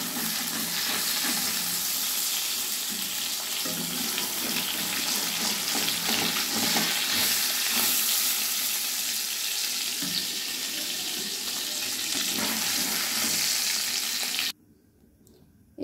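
Fish fry in hot oil with a loud, steady crackling sizzle and occasional stirring or turning clatter, close and continuous, then cutting off abruptly into near silence at the end.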